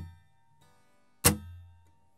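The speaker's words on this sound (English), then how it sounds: "I'm letting my palm hit the strings kind of a few milliseconds before the pick strums down like this." A single palm-muted downstroke on an acoustic guitar, the palm landing on the strings just before the pick, gives one sharp percussive strum with a short low ring, alone and fairly quiet.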